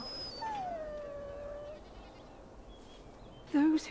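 Puppy whining in the Dragon Age: Origins video game, a long falling whimper early on and a sharper, louder whine near the end, with faint game ambience and speech.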